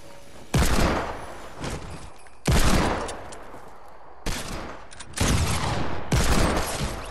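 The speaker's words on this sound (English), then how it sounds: "I hit him with a shotgun and headshot him." Shotgun blasts in Fortnite on an ice-covered creative island, several loud booming shots spaced a second or two apart, each trailing off in a short reverberant tail.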